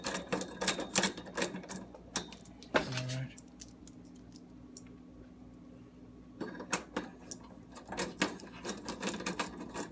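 Screws are fitted by hand while installing a Kenmore oven igniter burner, making close clicks, taps and metallic rattles in irregular bursts around a quiet pause.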